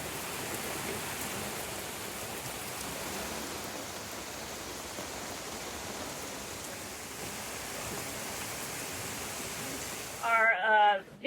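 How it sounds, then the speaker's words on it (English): Heavy squall rain pours onto a sailboat off Panama, a dense, steady hiss that fills the whole stretch before a voice briefly speaks near the end. "it's raining so bad right now that even Starlink is saying it's obstructed."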